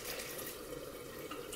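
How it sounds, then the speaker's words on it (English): Water trickling and splashing softly as a little more is added to thick dough for Macedonian pork and onion zelnik, a faint steady pour with no talking. "I'm just gonna put a little more water because it seems kind of thick."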